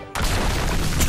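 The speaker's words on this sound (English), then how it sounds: "I can hear that gunfire, though." Video game gunfire bursts in abruptly after a short quiet moment. The sound is loud, dense and booming, and it continues as a sustained, close barrage.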